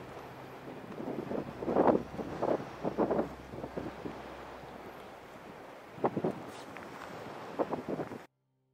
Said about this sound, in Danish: er det blæs.